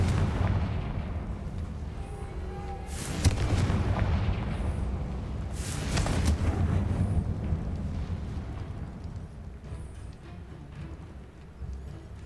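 Explosive booms from the Confringo fire spell in Hogwarts Legacy, with two strong bursts a few seconds apart over a steady rumbling game backdrop.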